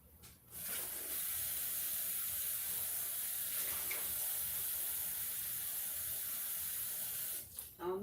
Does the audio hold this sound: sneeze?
no